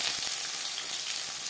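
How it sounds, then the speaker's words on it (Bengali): Chopped onion hits two spoons of refined oil in a wok for a greens stir-fry, giving a steady, close hiss and crackle of frying with no talk. "শাক ভাজা তৈরি করার জন্য কড়াইতে দিয়ে দিয়েছি 2 চামচ রিফাইন্ড অয়েল। এবার দিয়ে দেবো পেঁয়াজ কুচি"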